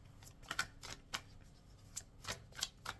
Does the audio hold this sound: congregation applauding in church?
no